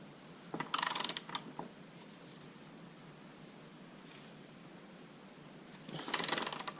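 A torque wrench tightens the rear wheel axle on a 2011-2024 Suzuki GSX-R 600/750 motorcycle, with two short bursts of close, crisp ratcheting clicks separated by several seconds of quiet.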